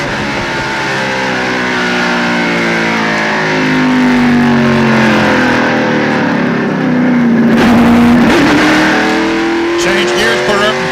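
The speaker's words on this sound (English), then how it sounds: "Changed gears, put her up in third, and took off." An in-car view of a 1995 NASCAR stock car racing at Darlington Raceway, its loud engine droning steadily, then dipping and climbing again as it shifts and accelerates, with commentators talking over the roar.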